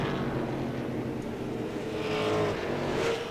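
Late model race cars at Langley Speedway thunder down the front stretch past the start-finish line, a continuous loud engine roar with overlapping growls swelling as the pack passes.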